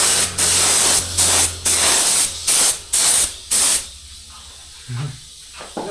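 Spray gun bursts coating the top of a Mahindra Yuvo Tech Plus 585 4WD tractor, six loud hissing blasts in a steady rhythm, then quieter handling noises near the end.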